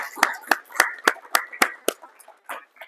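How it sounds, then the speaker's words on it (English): Sparse clapping from a small audience at a Manchester property business event, about ten distinct claps in an even rhythm that thin out and fade near the end. "Let's give them a round of applause"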